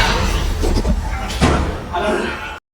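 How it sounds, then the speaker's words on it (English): A bathroom door swings shut by itself and bangs closed with a loud thud midway, amid dense, tense background sound and voices. "Suddenly, the bathroom door closed on its own."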